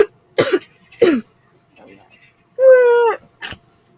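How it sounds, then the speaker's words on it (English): Two sharp coughs come close together near the mic, followed by a sustained voiced tone and a short final burst, all in an otherwise quiet room. "I'm coughing."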